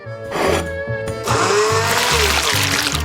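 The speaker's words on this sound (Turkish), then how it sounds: "Balığı blender'a atalım ve karıştıralım." An electric blender whirs in loud bursts, stopping and restarting, as fish is blended into a cocktail. The motor whine grinds and sloshes liquid close to the mic with no talking.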